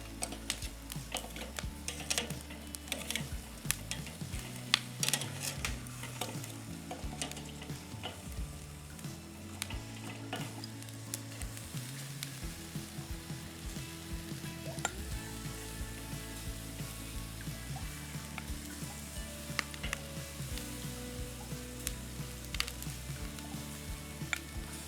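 Chicken for Filipino inasal sizzling in a pan after being flipped, a continuous crackling fry with scattered ticks and spatters, close and steady with no talking.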